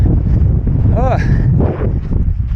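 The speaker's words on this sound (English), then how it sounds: "But there's a lake, and that's where the wind's coming from." Wind gusting across a cold ridge line above Lake Tahoe during the Tahoe 200 endurance run in 2025, buffeting the microphone as a steady rumbling roar, with a person talking over it.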